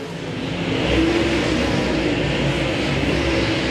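Race cars roar steadily around Thunderhill Raceway during a Southern All Stars event with ten laps left, a loud, continuous engine drone with revving swells and no talk over it.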